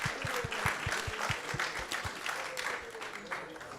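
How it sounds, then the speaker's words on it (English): An audience at a Krishna Katha evening program gives a round of applause, faint and distant, with low, evenly spaced claps under a murmur of voices. "Let's give them a big round of applause as well."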